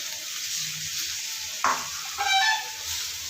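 Ridge gourd frying in hot oil with cooked-down spices, a steady hissing sizzle with a sharp splash as pieces drop in, followed by a brighter burst of crackling and stirring.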